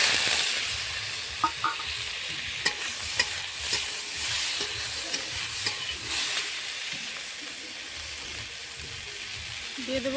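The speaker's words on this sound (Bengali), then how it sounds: "এখন আমি কচি চিংড়িটা ভেজে নেব কড়াতে দিয়ে দিয়েছি সর্ষের তেল" Young shrimp fry in hot mustard oil in a wok with a steady, fairly quiet sizzle, punctuated by a few sharp clacks and scrapes as they are stirred.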